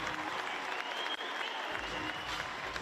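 Steady crowd applause at a CrossFit Open 20.5 event supporting Tia-Clair Toomey, a dense continuous clatter of clapping filling the whole stretch with some voices mixed in.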